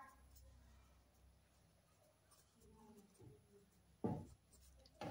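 Quiet scratching of someone writing the midpoint formula during a coordinate geometry lesson, faint pen strokes under brief spoken explanation, with a couple of sharper taps near the end.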